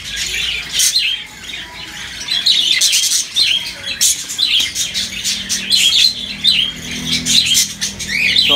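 Rainbow budgerigar squawking and chirping repeatedly up close, sharp bright calls in irregular bursts with soft rustling and handling noise between them, no talk.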